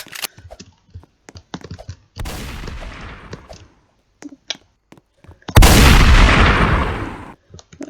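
Gunfire in the video game Mineral War Tycoon, heard as scattered short clicks and shots, then two loud sustained bursts of rapid fire, the second the loudest and closest.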